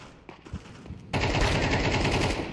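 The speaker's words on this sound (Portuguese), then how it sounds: "Tomou um tiro de AK" A few faint shots, then a sudden loud burst of sustained automatic AK rifle fire in the video game Counter-Strike 2 that continues rapidly until the end.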